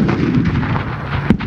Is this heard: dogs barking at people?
no